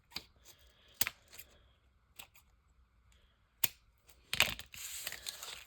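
Scissors snipping through fabric and thread during sewing, a few sharp isolated cuts spaced apart, then a longer burst of crunching handling noise near the end, quiet and close.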